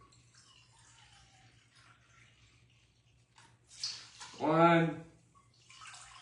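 Kroger apple cider vinegar poured into measuring cups, a short liquid splash and gurgle after quiet, near and moderately loud, with a person speaking briefly.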